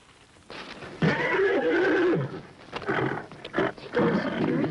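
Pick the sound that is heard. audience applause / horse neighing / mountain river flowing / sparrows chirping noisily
horse neighing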